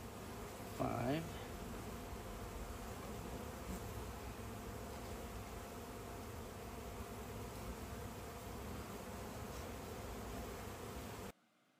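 Honey bees buzzing around a beehive outdoors, a steady dense drone of many wings heard close and continuous, with a brief louder pass of a single bee near the start.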